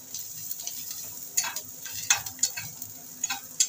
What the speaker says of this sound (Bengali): দিচ্ছি একটা শুকনো লঙ্কা, আর দিয়ে দেবো গোটা জিরে।